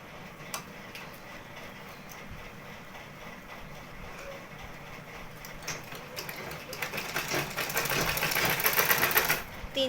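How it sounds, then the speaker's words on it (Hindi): A sewing machine stitching elastic into a palazzo waistband: rapid mechanical ticking that starts sparse, then builds into a dense, steady run growing louder toward the end, close up with no talk. "अब हम लोग ये इलास्टिक का पिन निकाल सकते हैं और सिल सकते हैं"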